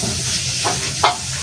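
Vegetables such as potato and eggplant sautéing and being turned in a frying pan, a steady loud hiss of sizzling oil with two brief scraping stirs near the end.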